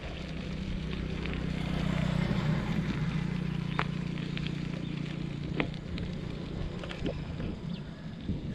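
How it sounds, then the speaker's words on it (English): A steady, broad roar of rushing water fills the scene outdoors, continuous and fairly loud, with a low rumble underneath and a few faint clicks and knocks over it. "I can hear the roar of the water."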